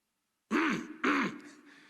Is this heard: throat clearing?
yes